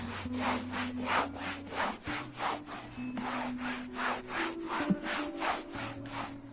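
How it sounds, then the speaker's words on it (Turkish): A sofa being wiped and cleaned by hand: steady, rhythmic rubbing strokes roughly every half second, close and continuous, with a faint tonal hum underneath and no speech. "Hem de kolay da siliniyor arkadaşlar şöyle."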